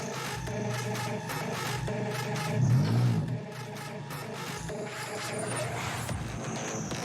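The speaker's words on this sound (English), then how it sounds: "sounds like you got a beefy car" A beefy car engine revs up to a brief loud surge and then settles back to a rumbling idle, heard at moderate distance over a steady mechanical hum.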